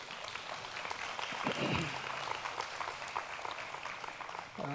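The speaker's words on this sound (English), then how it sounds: "Can we give them a round of applause" Church congregation applauding its leaders during a service, steady clapping across the whole stretch with a brief swell near the middle, filling the room at moderate volume.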